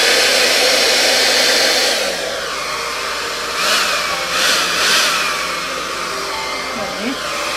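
A hair dryer blows close and loud across an acrylic Dutch paint pour, a steady roaring rush that dips and shifts in pitch as it moves.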